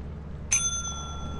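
A bell clicked in the video game Lethal Company rings once with a sharp metallic strike, then leaves a clear sustained tone that fades slowly over a low background hum.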